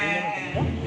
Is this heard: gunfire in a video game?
no